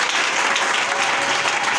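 Applause fills a church during worship acclaiming the Lord, a dense, even wash of many hands clapping at once, loud and continuous, with no voices standing out.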